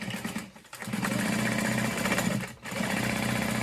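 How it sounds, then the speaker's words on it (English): A sewing machine runs in a steady, loud mechanical whir while back stitching over a zipper panel on a handbag, with a brief pause partway through before the stitching resumes. "Back stitching over the zipper panel as I go"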